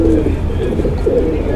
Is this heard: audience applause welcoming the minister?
no